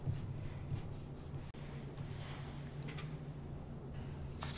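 Chalk rubbing across paper along the edges of a template, a steady dry scratchy scraping that continues throughout, fairly close, with brief soft pauses and no talking.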